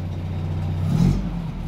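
A classic Mini's engine idles steadily after a start without the choke, a low continuous hum with a brief swell in revs around the middle before settling back.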